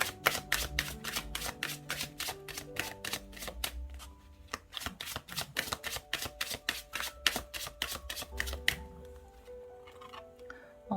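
A tarot deck shuffled by hand in a quick, steady train of crisp card snaps up close, then a pause and a card drawn with a softer slide and flick.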